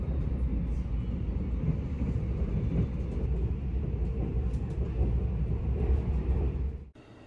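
Steady low rumble inside a moving passenger train in Korea, a continuous broadband roar of wheels and carriage with faint rattles, ending in an abrupt drop near the end; no talking.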